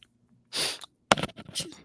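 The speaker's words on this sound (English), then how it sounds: "gonna sneeze." A single person's sneeze, a sharp burst with a quick intake beforehand and a short noisy release, heard close and fairly loud with no talk over it.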